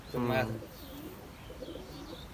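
A single low, throaty coo close by from a black Chinese pigeon hen with white eyes, followed by a quieter stretch of faint background noise.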